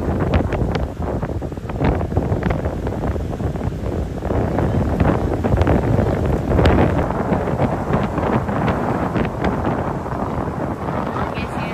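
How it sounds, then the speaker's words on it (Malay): Strong sea wind blows at a Pantai Puteri beach in Melaka, a continuous loud buffeting roar against the microphone with gusty swells, and voices faintly present beneath. "Serius angin. Sedap-sedap duduk di tepi pantai dengan angin"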